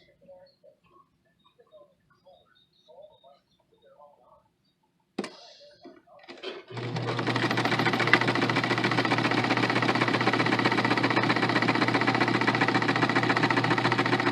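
A sewing machine stitches a quarter-inch seam in fabric, starting after several seconds of quiet handling and faint voice, then running loud and steady with a fast mechanical whir and hum.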